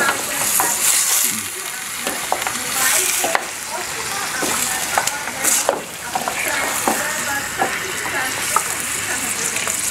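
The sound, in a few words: beef frying with onions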